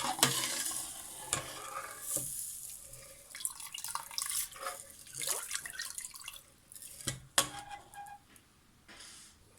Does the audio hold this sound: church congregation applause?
no